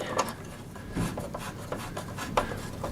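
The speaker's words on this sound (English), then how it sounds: "I can simply screw in 2 screws either side" Screws being driven by hand into the plastic battery box of a P1PE P5100SPE lawn mower, a close run of scraping, rasping turns with small knocks and rubs, no talking.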